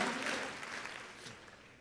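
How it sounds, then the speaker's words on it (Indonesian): A church congregation applauds, a dense wash of clapping from many hands that starts full and fades slightly over about two seconds, with no talking. "Tepuk tangan dulu untuk Tuhan kita yang luar biasa."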